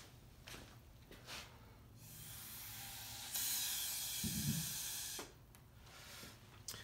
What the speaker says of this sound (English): if I blow air through the tube, I can pick up that white piece of paper off the table over there